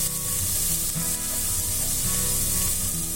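Garlic and curry leaves sizzle and fry steadily in hot oil for a Tamil bitter gourd thokku, a dense continuous crackle with a few soft stirring knocks underneath, close and even throughout.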